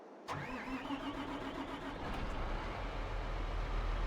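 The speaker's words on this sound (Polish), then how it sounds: "Tymczasem ja odpalam traktora." A John Deere tractor engine in Farming Simulator 22 turns over and starts, then idles with a steady, rumbling drone that grows slightly fuller.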